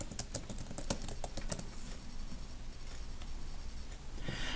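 Search terms are typed on a computer keyboard, a quick run of close, crisp key taps in a quiet room, denser at first and then continuing lightly, with no speech.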